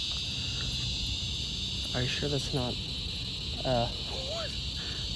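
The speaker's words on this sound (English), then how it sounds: "Cicadas?" Cicadas droning in a tree in New Orleans, a steady high buzzing band running continuously throughout, with people talking briefly over it.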